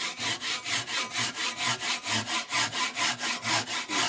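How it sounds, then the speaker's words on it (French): A Japanese ryoba saw rips lengthwise along the grain of a small piece of wood, giving a steady run of about a dozen rhythmic, rasping push-pull strokes, close and loud, with no talking. "je vais utiliser ma nouvelle scie japonaise qui est vachement bien"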